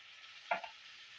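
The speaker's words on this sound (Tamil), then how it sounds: "கிண்டி விட்டுக்கலாம் சிம்மில் வச்சு ஒரு அஞ்சு நிமிஷம் நம்ம வதக்கி எடுத்துக்கலாம்" Tomatoes sautéed in a pan over low heat, giving one brief faint stirring scrape with a soft sizzle and nothing else around it.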